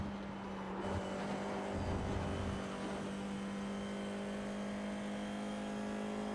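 An FIA F4 race car at Laguna Seca drones with a steady engine note from the cockpit, a brief throttle surge early on settling into a sustained, even hum.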